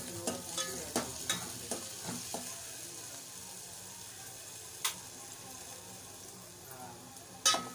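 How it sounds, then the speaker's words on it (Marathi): An onion and flour mixture sautés in a pan for Konkani-style kulith pithi, giving a steady low sizzle with sharp clicks and scrapes of stirring that fade after the first few seconds. No one speaks. "आता हे चांगलं परतून घ्यायचं आहे"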